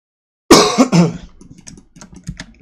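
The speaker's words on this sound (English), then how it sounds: "Goodness, my cough." A close, loud cough of two or three rough hacks, followed by soft, scattered keyboard tapping.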